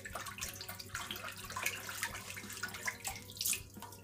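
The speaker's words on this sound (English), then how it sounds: "And some lukewarm water." Lukewarm tap water runs steadily from a faucet into a sink, a continuous splashing rush with small fluctuating spatters, close and moderately loud, with no talking.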